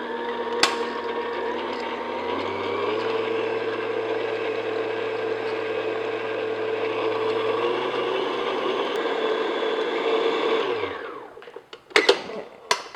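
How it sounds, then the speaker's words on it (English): A close electric stand or hand mixer beats butter with confectioner's sugar on medium-high speed, a steady whirring motor drone for about eleven seconds that then winds down into a few clinks and clatters. "now I'm just going to beat this on medium-high speed until it's light and fluffy"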